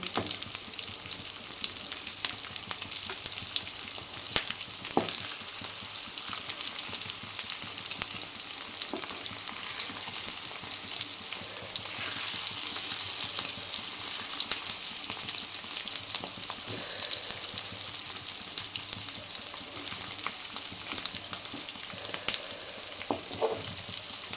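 Stuffed bitter gourds filled with chickpeas fry gently on low heat, giving a steady, close sizzle with soft crackles and a few stirring scrapes, with no voices over it.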